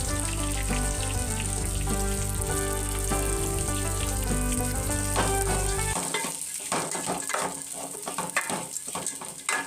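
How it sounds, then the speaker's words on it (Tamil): Grated coconut sautéing in a hot pan sets up a crackly, close sizzle with stirring that takes over after several seconds of tonal background music, with no voices. "கொஞ்சம் பொன்னிறமாக வதங்கட்டும்"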